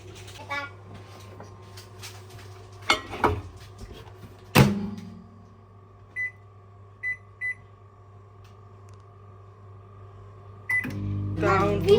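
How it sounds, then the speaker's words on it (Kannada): Microwave oven heating cake mix for two minutes, a steady low hum running throughout, broken by a few clicks and knocks, a short series of beeps, and a louder rising rumble near the end. "ಇನ್ನು ಓವನ್ ಒಳಗೆ ಇಡುವ ಎರಡು ನಿಮಿಷ ಓವನಲ್ಲಿ"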